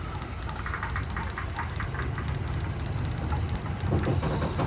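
A safari tour train engine, Old Engine Number 9, idles at the station with a steady low rumble and faint rhythmic knocking, continuous and fairly close with no talk over it.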